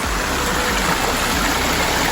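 A small stream and waterfall in a pondless backyard water feature set in wooded surroundings give a steady, close, broadband rush of splashing water with no pauses.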